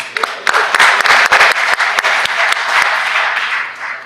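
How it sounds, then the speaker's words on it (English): Applause from the Mississippi Senate floor and gallery for an introduced guest, a short burst of close, sharp hand claps swelling quickly and then thinning out over a few seconds. "Please give him a round of applause."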